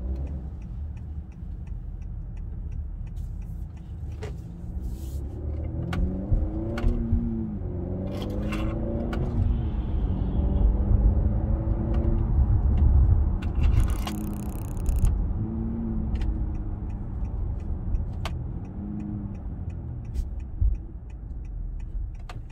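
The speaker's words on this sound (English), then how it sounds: "Turbo spool up, which is pretty cool" A car accelerates on a highway as its turbo spools up, with rising whistling engine tones that sweep upward repeatedly over a steady road rumble, with some clicking inside the cabin.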